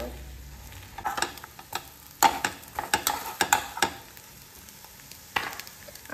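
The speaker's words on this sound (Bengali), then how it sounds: "একটু ব্রাউন কালার হওয়া অবধি আমি একটু ভালো করে ভাজা নিই" Food browning in a frying pan: a low sizzle with irregular scrapes and stirring clacks of a utensil against the pan, moderately close, no voices.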